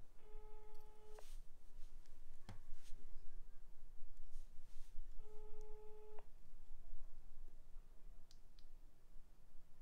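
Telephone busy signal heard while a French radio show host tries to reach a caller by phone: two separate bursts of a steady, repeating engaged tone over a noisy background with scattered clicks.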